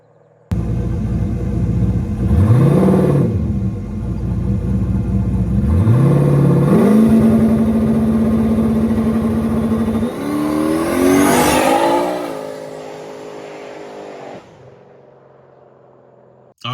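A turbo Trans Am on slick tires drives on a street, its loud engine rising through several revving pulls with gear changes, then a final hard surge that fades off into the distance.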